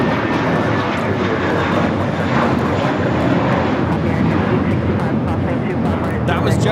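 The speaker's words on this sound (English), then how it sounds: "That was JetBlue Flight 800 taking off to Fort Lauderdale on the A321" JetBlue Airbus A321 jet taking off from Los Angeles International Airport, a steady, loud broadband roar of jet engines that holds throughout, heard from nearby with faint wind noise.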